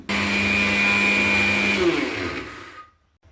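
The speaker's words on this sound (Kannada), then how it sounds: "ಇದು ಮಿಕ್ಸಿ ಮಾಡ್ಕೊಂಬರ್ತೀನಿ" A mixer grinder whirs loudly at high speed for a couple of seconds, then winds down and stops, leaving near silence.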